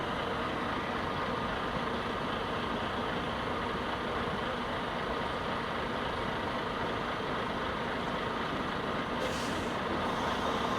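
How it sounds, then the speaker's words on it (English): A truck rolls past close by with a loud, continuous engine roar and hiss of air brakes, broad rumbling noise filling the whole stretch, with a brief higher squeal near the end. "now this damn truck is gonna block my shot."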